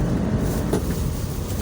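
A large truck rolls past on a road near a moving car, giving a loud, continuous low rumble with heavy road noise throughout.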